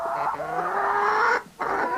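A black hen clucks on a farm, a few close, nasal clucks in quick succession with a short pause before a final one.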